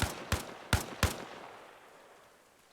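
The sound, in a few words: gunshots at a wall in video game ARMA Reforger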